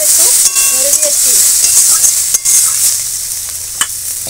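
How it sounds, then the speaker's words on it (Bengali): Vegetables frying in a covered pan as they are stirred, a steady loud sizzle with scattered scrapes and clinks of the utensil; no voices. "এবার ঢাকা দিয়ে সবজিগুলো ভাজবো।"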